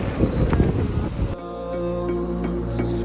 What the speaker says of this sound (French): Il y a du vent, hein.